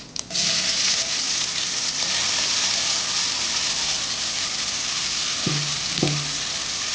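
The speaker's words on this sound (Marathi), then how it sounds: "हे जे आपण अननसाचे तुकडे करून घेतले ते आपण यामध्ये घालूया" Pineapple pieces added to a pan of spices with turmeric and red chili for Konkan pineapple sasav, a steady loud sizzle that holds throughout, with a couple of brief spoon clinks near the end and no talk.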